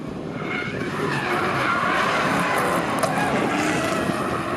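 Race car engines roar while tires squeal and skid, a loud continuous rush of engine noise and screeching rubber throughout, with faint voices beneath.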